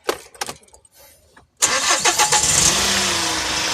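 A Hyundai H100 van with an overheating problem and a worn clutch fan cranks briefly, then its engine catches and settles into a loud, steady run close by, with a few faint clicks before the start.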